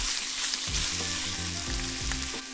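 Hot and spicy sausage sizzles in a pan over medium-low heat for a Zuppa Toscana soup, a dense, continuous frying crackle with light stirring, close and loud, with no voices.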